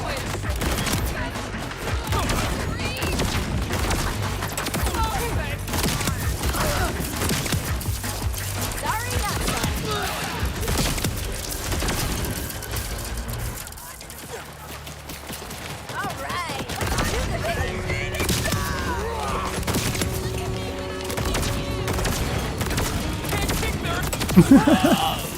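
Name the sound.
gunfire from a gun in the video game Borderlands 4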